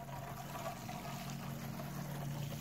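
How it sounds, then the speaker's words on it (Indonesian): Water trickles and pours steadily onto soil where sunflower seeds have just been planted, a soft continuous flow close by under a low background hum. "siram sampai dia benar-benar basah ya."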